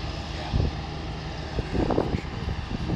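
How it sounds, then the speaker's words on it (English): Small propeller plane at a domestic terminal in Cancun, with a steady engine drone filling the scene and occasional louder bumps and rustles nearby. "Our modest sized plane awaits and requires careful weight distribution."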